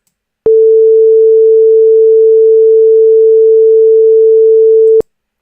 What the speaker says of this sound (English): It's like playing this sine wave versus this, either this sine wave or this sine wave.